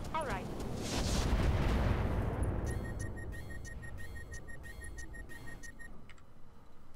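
A mech fires inferno ammo in Roguetech, a loud whooshing roar of launched fire that swells over the first two seconds and then decays, followed by rapid repeated mechanical ticking.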